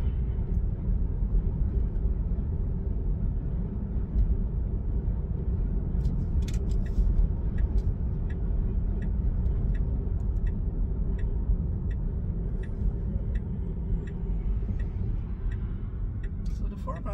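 A car drives along a road with a steady low rumble of engine and tyre noise from inside the cabin, with faint ticking, while people talk over it.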